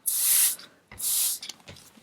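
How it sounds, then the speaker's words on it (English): A spray bottle of water mists a watercolour background in two steady hissing bursts of about half a second each, close and clear, with small handling sounds between them. "I have to get my spray bottle here, and I'm gonna spray the background."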